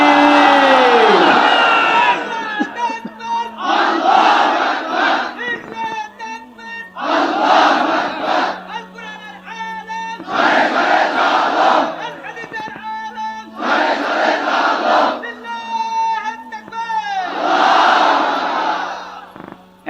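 Crowd at a Bangladeshi Islamic waz gathering shouting the takbir response in repeated loud unison bursts, about five rounds in steady rhythm, with a leader's voice calling between them.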